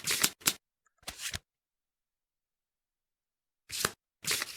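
A deck of game cards for the Kingdom Death board game being shuffled, short crisp riffling bursts: two quick ones, another after a pause, then two more after a long silence, close and clear.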